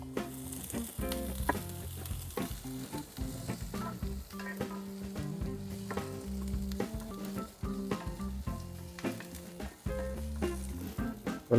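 Garlic sautés in oil in a pan for a pork sinigang, giving a loud, steady sizzle broken by scraping stirs and clinks of a utensil throughout.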